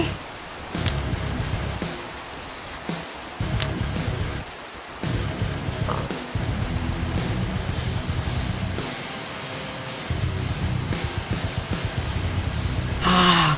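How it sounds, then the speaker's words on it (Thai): Rain falling in the Minecraft video game, a steady soft hiss that runs for several seconds with brief dips and a few sharper ticks, with no voices over it. "ฝนดันมาตกอะไรตอนนี้"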